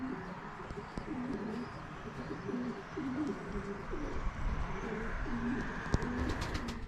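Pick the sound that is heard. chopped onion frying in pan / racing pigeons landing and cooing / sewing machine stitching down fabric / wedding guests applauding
racing pigeons landing and cooing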